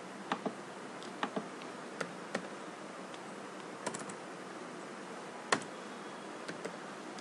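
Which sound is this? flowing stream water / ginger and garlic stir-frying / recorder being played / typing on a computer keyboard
typing on a computer keyboard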